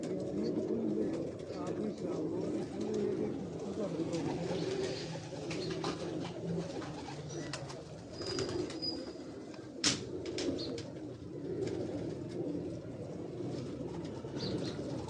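Pigeons cooing on a rooftop where fanciers keep their birds, a low continuous murmur of coos with occasional wing flaps and faint chirps, a little distant, with a brief sharp click near the end.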